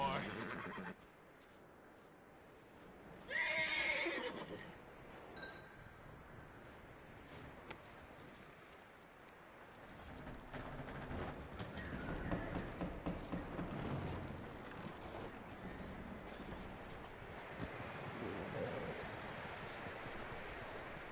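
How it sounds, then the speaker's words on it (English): A horse in the Red Dead Redemption 2 video game whinnies loudly near the start, with scattered clip-clopping hooves and mechanical clicks after it and game voices talking over the scene. "That looks like a decent horse. You should keep him."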